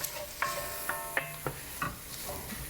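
Spoon scraping and stirring through flour and cooked sausage in a soup pot, in about six short regular strokes over a faint sizzle, close and fairly quiet with no talk.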